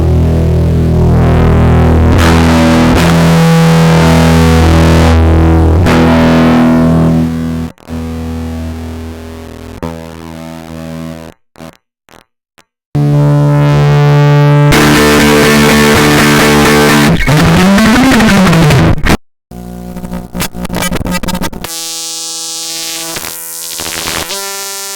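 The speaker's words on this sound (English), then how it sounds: "So yeah, very weird distortion." A broken digital compressor effect produces harsh, buzzy distortion on synth tones, with loud bursts broken by short gaps, a sweeping pitch bend near the end and a glitchy, stuttering finish.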